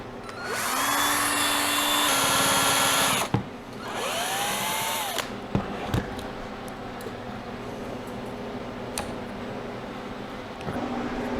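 A power drill whines loudly for about three seconds during freeze-drying preparation of eggs, then gives a second shorter burst and fades into quieter mechanical clicks and knocks.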